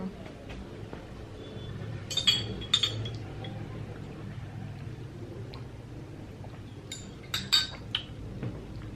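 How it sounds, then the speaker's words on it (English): A glass straw being cleaned makes light clinks and taps in small clusters, close but faint. They sit over a quiet indoor room hum. "Today I'm sitting and cleaning my glass straw."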